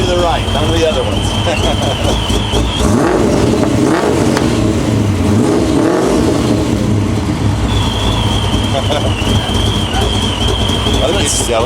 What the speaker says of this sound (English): Get in and give it a rev.